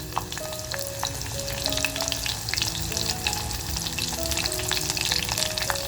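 Green and red chilies with garam masala frying in hot oil for mutton masala: a loud, dense crackling sizzle with scattered pops and stirring, steady throughout, no voices.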